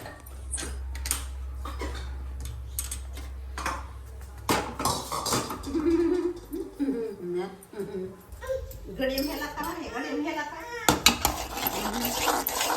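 Ghee stirred as it heats in a pan on a gas stove, with a spoon scraping and clinking against the metal in irregular, close strokes while voices talk over it.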